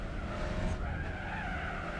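A car's tyres spin and skid on a rally road in Gran Turismo 4's Umbria Rally, a sustained squealing slide over a steady engine drone, fairly faint and without talk.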